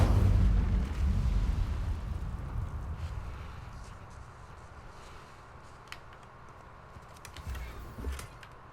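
An Incendio fire spell bursts out in Hogwarts Legacy with a loud, low whooshing blast at the start that rolls into a sustained roaring crackle, fading gradually, with a smaller thump near the end.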